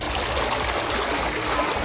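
Water from the Ganges river pours steadily through a broken embankment near the Bijnor barrage, a loud, continuous rushing flow with no pauses.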